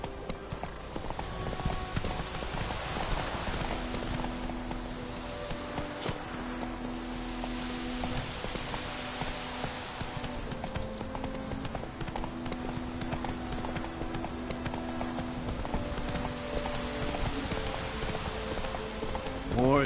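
In The Witcher 3, the horse Roach moves along with steady, rhythmic hoof clip-clops and light rustling. A soft game music bed sits under the hooves for the whole stretch.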